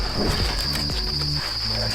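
Crickets in a cricket-farm breeding enclosure chirp in a steady, shrill, continuous trill, close and loud, with low rumbling and shuffling noise beneath.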